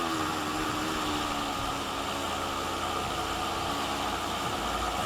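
A Zip Trim cordless electric string trimmer running at idle gives a steady, even whirring hum with a broad airy hiss, constant in level throughout and heard alone without talking.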